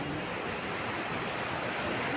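Steady roar of sea surf around an eco farm in Basco, Batanes, a continuous broadband wash of waves with wind, fairly even and distant, with no voices.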